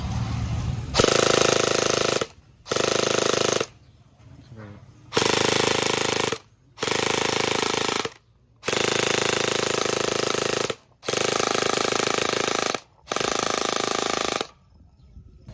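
A WD PDX gel blaster upgraded with a metal gearbox fires loud full-auto bursts, about eight rapid mechanical rattling volleys separated by short pauses, close to the listener.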